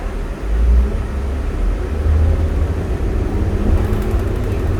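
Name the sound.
New Flyer D40LF bus motor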